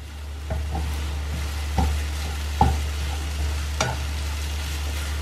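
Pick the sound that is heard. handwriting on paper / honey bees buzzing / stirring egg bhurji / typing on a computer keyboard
stirring egg bhurji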